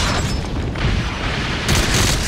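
Missiles exploding in the video game Metal Gear Solid 5, with loud, continuous booming blasts that rumble together, and a fresh burst near the end.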